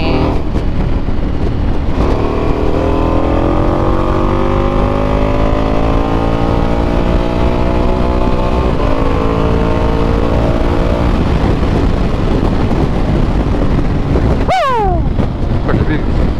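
Ducati Multistrada V4S motorcycle accelerating hard, its engine note climbing through rising harmonics over steady wind rush, loud and close, with a sharp sweep near the end as the revs shift.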